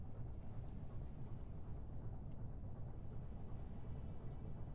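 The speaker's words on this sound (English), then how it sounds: "I can hear the engine running though" Boat engine running very slowly in the Stormworks video game, a low, rumbling, steady drone with a churning watery texture, faint and continuous without talk.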